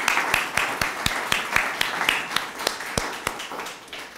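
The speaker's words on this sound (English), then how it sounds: "So please, let's give them a round of applause." Sparse, uneven handclaps from a small audience at a studio groundbreaking ceremony, individual sharp claps spaced irregularly and moderately close, tapering off toward the end.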